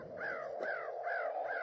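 Several crows caw from trees out on the open frontier, four distinct harsh calls in a steady rhythm, moderately close and clear with no talk over them.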